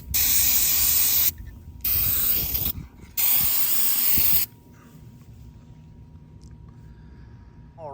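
Undercoating sprays from an aerosol can onto the underside of a mower deck in three loud, close hissing bursts of about a second each, separated by short pauses, then quiet with faint handling clicks.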